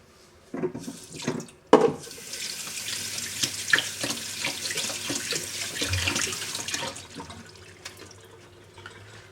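Water runs steadily from a kitchen tap while oats are rinsed under it, a broad continuous splashing stream that starts with a few bursts and then flows on alone, close and fairly loud.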